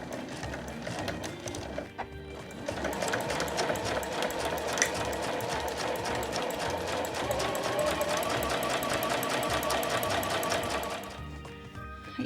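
A sewing machine stitching a fabric pouch, opening with a short backstitch, then running in a fast, steady mechanical rattle for several seconds before stopping.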